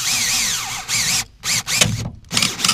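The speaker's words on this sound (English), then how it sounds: "So now we know where to drill out." A power drill whines up and down in several bursts, its pitch sweeping as it bites into the metal body of an old Corvette, with short silent gaps between runs.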